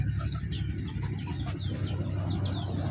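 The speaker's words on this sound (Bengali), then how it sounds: "এটা মুরগিগুলোর দৃশ্য দেখেন কীরকম খাঁকা খাঁকা করছে।" Chickens eating rice from a pile, soft clucks and pecking chatter mixed into a steady close background rumble, the birds fairly faint and continuous.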